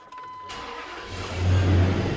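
A Dodge truck engine cranks briefly, fires and settles into a rising idle rumble, close and fairly loud.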